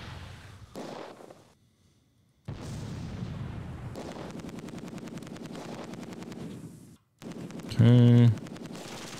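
PIAT rounds strike a house in the World War II game Close Combat 2, each hit a loud blast or crackling burst. Brief silences fall between them, and a sharp, intense impact lands near the end, with a voice speaking briefly.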